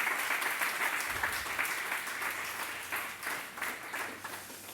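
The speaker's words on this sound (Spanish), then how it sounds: "denle una ofrenda de palmas al Señor" Church congregation applauding together in an offering of praise, a dense continuous wash of many hands clapping at steady loudness that tapers slightly toward the end, with no talk over it.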